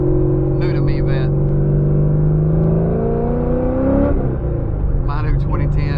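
A 2010 Chevrolet Corvette C6 Z06 V8 rumbles steadily up close, its engine note rising in pitch as it revs, with someone talking over it.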